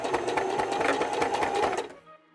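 Home sewing machine stitching rapidly, then reversing to backstitch at the end of a seam on simple costume ears, a steady close mechanical whir with quick needle chatter that stops abruptly near the end.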